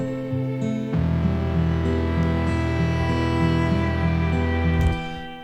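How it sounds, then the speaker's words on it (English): Digital electric bass in a synthesized game main-menu soundtrack, a steady low sustained line under held synth harmonics, loud and close for about four seconds before cutting off, with no voices. "So the next interesting thing that happens is this electric bass."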